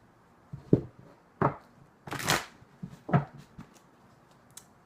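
Tarot cards being shuffled by hand in a quiet room: several separate brisk riffling and sliding bursts, one longer rustle in the middle, close and moderately loud with short pauses between.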